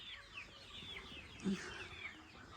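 Hungry farm chickens cluck softly before feeding, with a brief louder bird call midway, faint against quiet background chirping.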